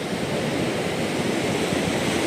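Sea waves wash onto the beach at Pallikkara in Bekal, Kasaragod, a steady, loud broadband roar of surf with no break and some wind in the microphone.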